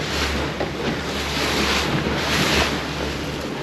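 Wind and waves on a cold, stormy open sea heard from a moving boat, a loud continuous rush of wind buffeting the microphone over surging water, with no voices.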